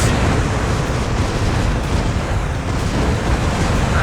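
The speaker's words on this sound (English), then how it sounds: "if we touch these explosions, we'll be blown apart to smithereens" Explosions in the StarCraft video game: a loud, sustained rumbling roar of overlapping blasts with no pause, close and heavy throughout.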